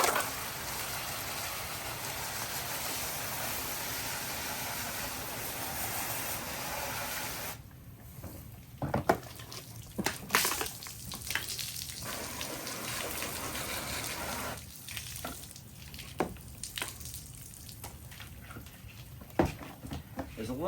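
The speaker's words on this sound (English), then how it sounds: "I'm gonna go ahead and hose this out." Water from a hose sprays steadily into a Litter-Robot, a broad hissing gush that breaks off now and then for short pauses with clatter before resuming.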